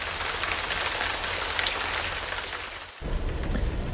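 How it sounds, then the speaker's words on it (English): Steady rain falling at a wet outdoor MX5 autotest event, a dense continuous hiss that briefly dips near the end before resuming. "it's wet and it's raining"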